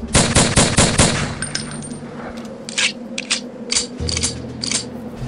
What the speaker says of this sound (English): it sounds like also the reload sounds are a bit different.